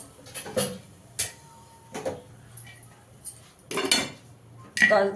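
A lid goes onto a pot of cooking dal with Malabar spinach, heard as a few scattered metallic clinks and clatters of pot and utensil, close and intermittent between quiet gaps.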